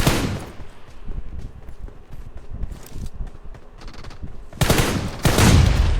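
Gunfire from a PUBG Mobile match in a town: rapid bursts of automatic fire crackle throughout, with heavier volleys near the end and no talk.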